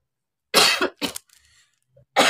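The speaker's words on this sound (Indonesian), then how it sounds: "Batuk." A few sharp, loud coughs close to the mic, separated by short pauses, with a faint clatter in between.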